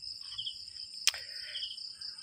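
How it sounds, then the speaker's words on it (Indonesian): A cricket chirps in a steady, continuous high trill, close and clear against a quiet background, with one sharp brief click partway through. "jangkrik ini mantep loh"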